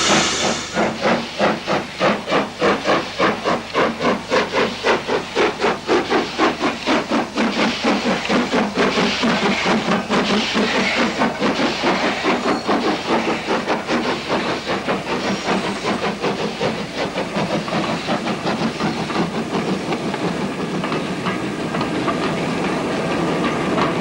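Steam locomotive Royal Scots Grey working hard, a loud continuous roar of hissing steam driven by a fast, regular chuffing beat that holds steady throughout, with no voices.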